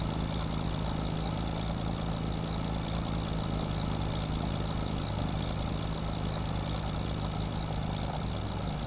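Steady, continuous engine drone of a shorter tractor in Farming Simulator 25, a constant broadband rumble with no talk and no variation throughout.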